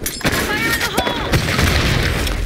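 Grenade blast in a fast-paced multiplayer shooter, a loud booming burst with crackling debris amid chaotic gunfire and game effects, while players talk and shout over it.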